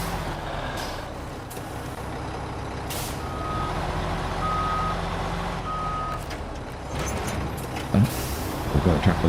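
Semi-trailer truck reversing in SnowRunner, with steady intermittent reversing beeps over a continuous low engine rumble and a hiss of air brakes near the end.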